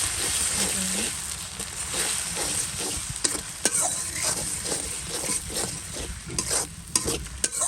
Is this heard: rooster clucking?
no